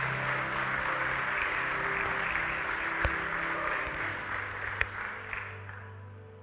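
Congregation applauding at a church sermon, a steady wash of many hands clapping with a couple of sharper claps standing out, fading slightly toward the end.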